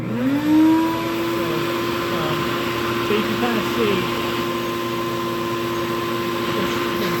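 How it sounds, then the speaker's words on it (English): A shop vacuum powers a homemade suction table built for paper conservation. The motor spins up to a loud, steady whine and drone that holds throughout, with a person talking over it. "Now I'm going to turn the vacuum on, so it's going to be a little bit loud."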